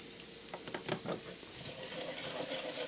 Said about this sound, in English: you want to cook off the tomato paste